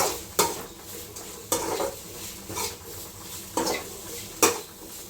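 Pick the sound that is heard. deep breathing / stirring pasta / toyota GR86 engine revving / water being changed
stirring pasta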